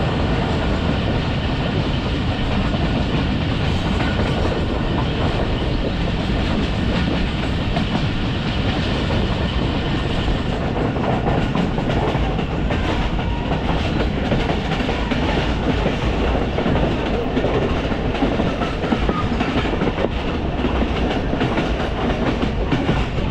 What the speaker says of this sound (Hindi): अब देखते हैं यहाँ पे ट्रेन रुकती है नहीं, रुकेगी तो नहीं।